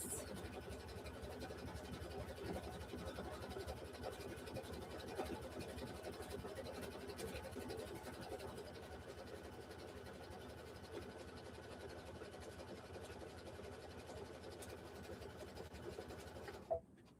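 A sewing machine stitches around a quilt block with a steady, continuous whirring drone that holds for most of the stretch, then stops abruptly near the end.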